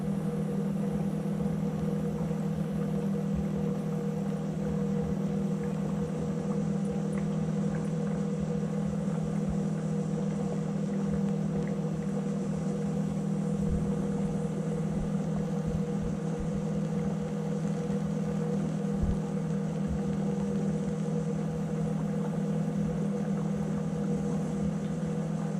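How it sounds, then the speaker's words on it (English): A hydrogen torch flame cuts through metal with a loud, steady roaring hum that holds unbroken from start to finish. No voices are heard. "that is a very, very hot flame. I mean, it just melted that completely"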